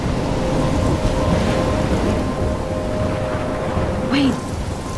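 In Life is Strange, a thunderstorm with rain rumbles continuously, a low roar of wind and downpour persisting throughout, with a brief brighter burst near the end and faint speech beneath.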